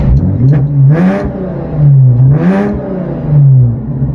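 A car engine with Cherry Bomb mufflers revs up three times in a row in neutral, each loud rise in pitch falling back to a rumbling idle, close and alone.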